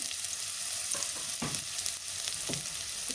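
Chopped onions sizzle in a pan for an egg and chicken curry-leaf gravy, a steady close frying hiss broken by several sharp scraping stirs, with no talk.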